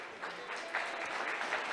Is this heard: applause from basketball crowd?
yes